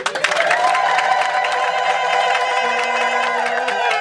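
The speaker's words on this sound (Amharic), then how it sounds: "ለእግዚአብሔር ሁላችሁ እልልታና" A church congregation at a Christian worship service ululates and cheers together: a dense, loud crowd roar with sustained high trilling voices that holds steady throughout.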